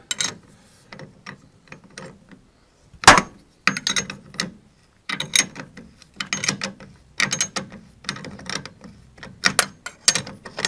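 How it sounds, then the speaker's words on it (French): A 21 mm wrench turns a bolt off a Dacia Duster shock absorber, with a string of ratcheting clicks in irregular bursts, close and fairly loud, and a sharp metallic clack near the start. "Une clé de 21 que je dévisse."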